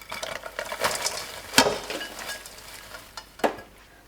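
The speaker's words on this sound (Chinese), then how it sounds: "快速的翻拌均匀" Fried noodle strands being quickly stirred and tossed into hot sugar syrup for sachima, producing soft scraping and sticky rustling with a few sharper clatters, close and moderately quiet with no talking.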